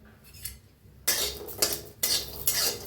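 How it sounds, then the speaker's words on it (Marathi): A spoon stirs grated coconut, garlic and green chilies as they roast in a pan, giving scraping, clinking strokes that come in bursts over a low sizzle, close by with no talk. "हलवून भाजून घेऊया"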